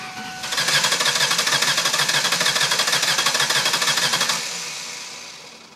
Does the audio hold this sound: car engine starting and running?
yes